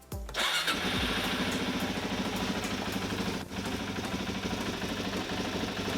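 A Suzuki DRZ dual sport motorcycle engine cranks briefly, catches and settles into a loud, steady idle close by, with one brief dip partway through.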